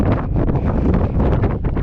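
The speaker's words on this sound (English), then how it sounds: "Windy!" Strong wind buffets the microphone on a mountainside near an abandoned mine in a continuous loud roar with gusty rumbling and no pauses.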